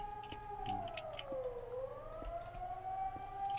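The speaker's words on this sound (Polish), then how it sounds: "tylko ta syrena mi dosyć przeszkadza, bo mnie dekoncentruje" A civil defense siren wails outdoors in a steady rising and falling tone, continuous and moderately loud, with no talking.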